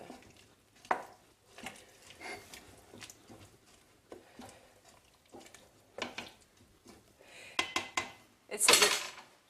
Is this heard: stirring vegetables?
yes